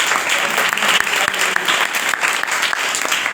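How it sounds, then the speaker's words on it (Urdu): A church congregation applauds loudly and continuously, with dense, even clapping from a crowd that fills the whole stretch without pause. "آئیے اس امید کے لیے اور اس کے کلام کے لیے زوردار تالی بجائیں"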